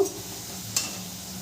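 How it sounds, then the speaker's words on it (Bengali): Spices with turmeric powder being stirred and mixed in a pan for mochar ghonto, a steady close sizzle with a single brief scrape of the spoon. "ভালো করে মশলাটাকে মিশিয়ে নেব।"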